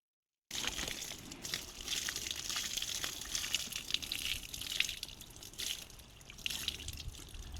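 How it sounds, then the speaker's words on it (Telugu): Chicken wash water poured out onto garden plants outdoors, a steady splashing and dripping pour that keeps going throughout with small surges, close by and moderately loud, with no talking. "కడిగి వీటిని ఈ నీళ్ళనే మొక్కల్లోనే పోసేస్తున్నాము."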